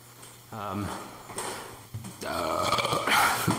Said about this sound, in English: Sorry about the belch.